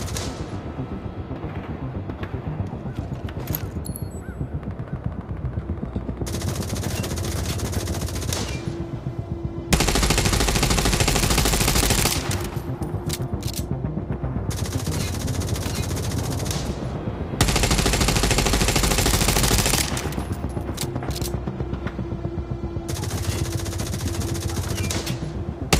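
Rapid machine-gun bursts from a turret in The Division Resurgence, loud and close, firing in long sustained stretches that stop and restart, with brief lulls between the heaviest volleys.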